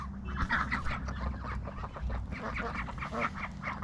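Several ducks and geese quack and honk over each other in a steady, nearby chorus, with a low background rumble underneath.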